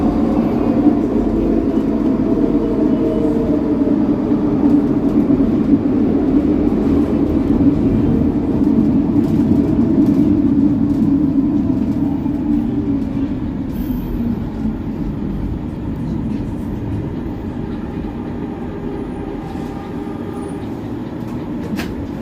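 Inside a moving Skytrain car, a loud, constant roar of wheels and motors fills the cabin, with rumbling rail noise and rattles that ease slightly in intensity partway through.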